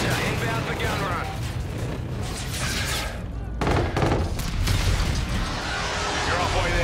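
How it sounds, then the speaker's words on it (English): Helicopter gun run in a Call of Duty–style video game with the Juggernaut Mammoth, delivering a sustained burst of heavy strafing gunfire and rumbling impacts, loud and continuous with a brief lull midway before the firing resumes. "Roger, inbound for gun run."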